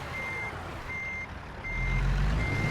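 Truck reversing beeps from a truck driving video game, four evenly spaced steady tones repeating through the clip over a low engine rumble that swells toward the end, with no talking.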